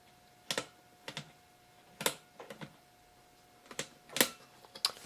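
Selector levers on an old tube tester from an organ tube amp are flicked between positions, giving several crisp, close mechanical clicks in small pairs and clusters with pauses between, over a faint steady hum.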